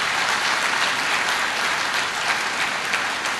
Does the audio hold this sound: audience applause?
yes